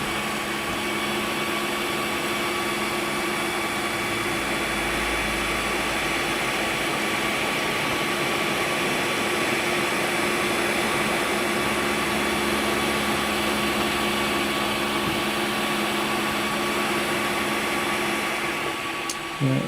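A brand-new, unmodified Creality Ender 3 Pro 3D printer runs its first print with a loud, steady fan whir and motor hum, plus a few faint low stepper tones, carrying on unbroken with no one talking.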